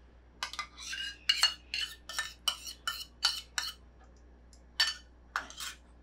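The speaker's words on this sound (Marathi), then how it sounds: "दही असं छान थोडंसं मिक्स करून घेते अजून" A spoon stirs curd into jowar flour batter for peas and fenugreek appe, clinking against the bowl in quick, uneven bursts of bright metallic taps with brief pauses between them.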